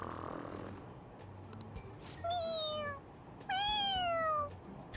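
Two drawn-out meows from a cartoon cat in the video game Persona 5 Royal: a shorter cry, then a louder, longer one after a brief pause, heard close and clear over a low steady game background with no talking.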